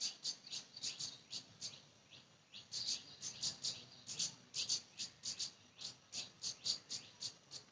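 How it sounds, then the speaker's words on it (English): A small bird chirps outdoors in quick repeated bright notes, a steady rhythmic series of short calls at moderate distance over a quiet background. "you can enjoy the sound of this bird."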